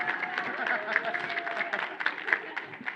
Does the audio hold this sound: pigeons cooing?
no